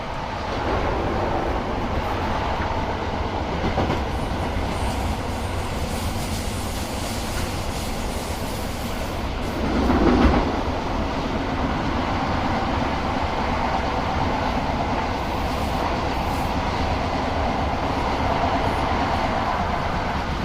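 A Class 321 electric train rides from London Liverpool Street toward Stratford, its interior filled with a steady, continuous rumble and rail noise, with one brief swell midway.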